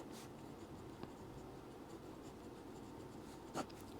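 A pen scratches faintly on paper while a maths formula is written out, with soft intermittent strokes and a couple of small taps in a quiet room.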